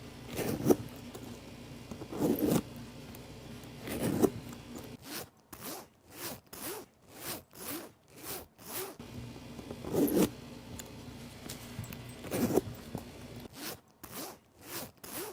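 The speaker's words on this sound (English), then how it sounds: "the zipper is not as smooth as my other zipper" A zipper on a Rick Owens Geobasket leather sneaker is pulled open and closed repeatedly, with a few long drawn rasps followed by a quick series of short, choppy zips.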